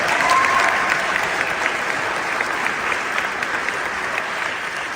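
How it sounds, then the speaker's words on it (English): Sustained applause from a seated audience honoring Dr. Marcus Campbell and Dr. Pat Savage, a thick continuous wash of many clapping hands that holds at an even level throughout. "If we can give them a round of applause."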